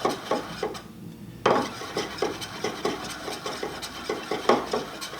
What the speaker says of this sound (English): you can actually use the screwdriver that you use to stir it up